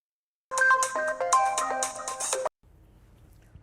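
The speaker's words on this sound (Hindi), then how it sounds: "बेल जा रही है।" A telephone ringtone chirps in a tonal electronic ringing pattern for about two seconds, loud and alone, then falls silent before a faint low hum.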